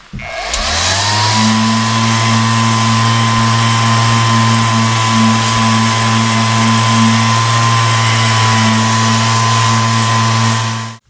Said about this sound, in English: So I'm going to be using my orbital sander with about a 220 grit pad